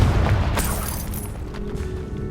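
A Confringo fire spell bursts with a loud, boomy blast in Hogwarts Legacy, followed by a rumbling decay and crackle, with no talk.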